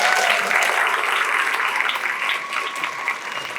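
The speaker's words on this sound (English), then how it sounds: "Give them a round of applause, guys." An audience at a high school speaker panel claps in a full, steady round of applause, dense and sustained, easing slightly in loudness toward the end.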